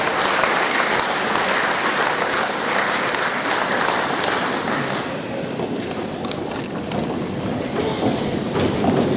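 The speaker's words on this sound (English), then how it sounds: "please give another round of applause for our VC 2019 College Juniors" Loud, sustained applause from a large audience at a Sri Lankan Independence anniversary event in Melbourne, a thick continuous roar of clapping that dips slightly midway and then swells again.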